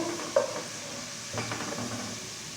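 Chopped onions fry softly in a pan, turning golden, giving a faint, steady sizzle with an occasional light stir.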